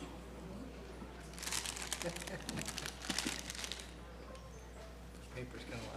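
Paper crumpled and handled close to a microphone in a county planning commission meeting room, crinkling in two or three bursts over a steady low hum, with voices talking nearby.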